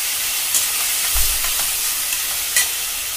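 Chopped onion sautéing in oil in a pan for pav bhaji, a steady broad sizzle with a few soft stirring scrapes and clinks, close and alone.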